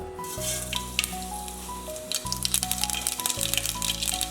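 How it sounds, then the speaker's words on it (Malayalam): Mustard seeds sizzling and popping in hot oil in a pan, a steady hiss dotted with crackles that grow busier toward the end, under soft background music. "ഇനി നമുക്ക് കുറച്ച് കടുക് ഇട്ട് കൊടുക്കാം."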